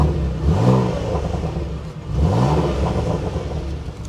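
A Porsche Macan GTS with a V6 and active exhaust revs twice outdoors at a dealer auction. Each rev rises and falls as a loud mid-pitched engine swell over a steady idle.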